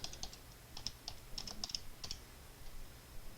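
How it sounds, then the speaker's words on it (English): Fingers type a short search query on a computer keyboard, producing a quick, light run of close, crisp key clicks over a low background hum. "So I'm going to type Dallas and newspapers"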